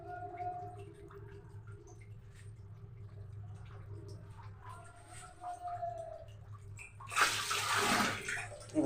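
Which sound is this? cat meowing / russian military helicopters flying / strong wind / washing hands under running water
washing hands under running water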